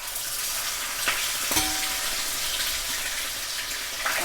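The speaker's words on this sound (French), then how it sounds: "Quand l'huile va être assez chaude, on va griller le poisson." Salted cod fries in hot oil with a continuous close sizzle, a few louder crackles and a brief clatter near the start of the pan sounds.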